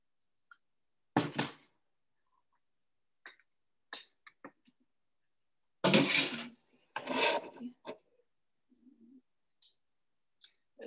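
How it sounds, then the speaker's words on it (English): A small hand whisk mixes an herbal drink in quick, brisk bursts, two longer spells of close scraping and rattling separated by short taps and near silence. "I have a little hand whisk for mixing."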